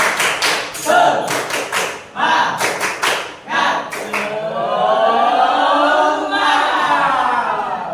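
Classroom of students doing the rhythmic 'tepuk semangat' spirit clap in quick patterned bursts, then breaking into loud group chanting and cheering voices that carry to the end.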